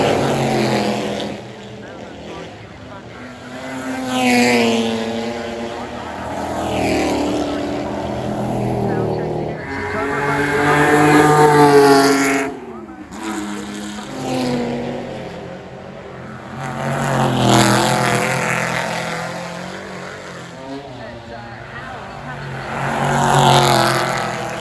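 Jaguar E-Types and AC Cobras race at the Goodwood Revival, engines swelling and fading as cars roar past one after another, loud passes separated by brief lulls.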